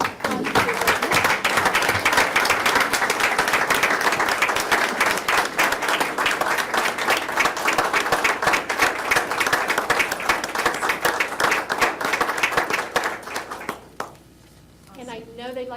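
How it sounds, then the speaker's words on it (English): An audience applauds standing volunteers, with steady, dense clapping filling the room for about fourteen seconds before it fades into a voice speaking. "I'd like them to each stand one more time, and let's give them a applause."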